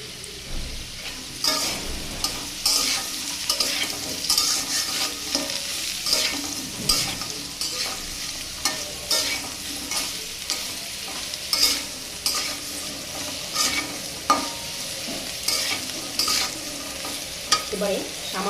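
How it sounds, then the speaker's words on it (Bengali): Vegetables seasoned with salt and turmeric are stirred and fried in a pan for an Ol (elephant foot yam) dish with bottle gourd stems, giving a steady close sizzle broken by repeated scraping strokes of the spoon throughout. "মিশিয়ে আরেকটু সময় ভাজবো।"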